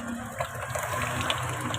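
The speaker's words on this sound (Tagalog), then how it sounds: "Ubod ng hina ang tubig." A weak, thin stream of water runs from a tap in a bathing area in Tondo, Manila, a steady low trickle and gush with a faint pump-like hum throughout, fairly close and alone.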